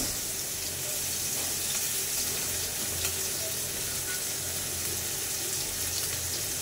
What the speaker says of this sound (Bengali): তেল হলুদটা গরম হয়ে গিয়েছে, এখন পেঁয়াজ কুচিগুলা দিয়ে দিব, কাঁচামরিচ কুচিগুলা দিয়ে দিব চিংড়ি মাছ